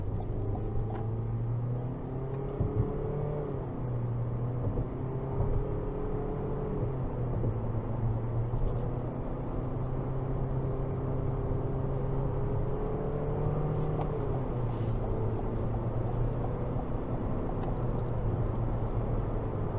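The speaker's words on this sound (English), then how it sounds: "Let's give it some throttle here." A 2022 Toyota Corolla Cross LE with a non-turbo 2.0 four-cylinder engine drones steadily under throttle as it accelerates, heard from the cabin with a low, even hum and road noise, rising gradually in pitch.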